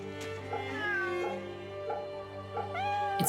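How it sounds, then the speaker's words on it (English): A cat in Fate/Samurai Remnant gives a run of several clear meows, close and fairly loud, layered over sustained background game music with no talking. "I sense a kitty here. I want to pet it."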